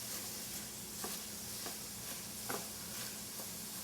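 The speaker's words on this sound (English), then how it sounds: "Getting our sausage pressed down so we can start breaking that up and chopping it." Sausage sizzles steadily in a hot pan while a utensil breaks it up, with a few soft scraping taps over the constant frying hiss; no one speaks.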